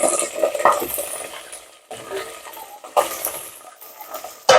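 Chicken goes into hot oil with golden fried onions and green chillies and is stirred, producing close, lively sizzling and frying. Repeated scrapes and clinks of a spoon against the pan run through it in uneven bursts.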